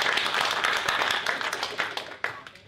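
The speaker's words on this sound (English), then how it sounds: "Big round of applause" Brief applause from a conference audience at an IoT industry event welcoming a speaker, a burst of clapping that thins out and fades within a few seconds.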